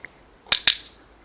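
Two quick, sharp plastic dog training clicker clicks in close succession, crisp and near, with near silence before and after.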